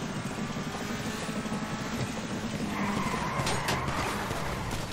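Car tyres skid and squeal in GTA V as a damaged car slides on a slippery surface, a continuous loud, gritty roar of engine and tyre noise that swells in the last two seconds.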